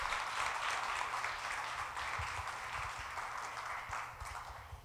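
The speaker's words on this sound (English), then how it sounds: "Big round of applause." A crowd applauds after a talk on cannabis pests and diseases at a science pub night. The clapping is sustained and fairly faint, with a broad wash of many hands that fades slightly over about five seconds.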